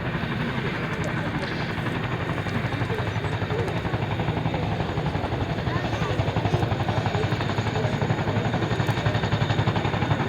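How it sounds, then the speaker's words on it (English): A helicopter rotor thrums steadily and loudly as the machine comes to a stop after a running landing, a continuous dense engine and blade drone holding for the whole stretch. "bringing the helicopter to a stop"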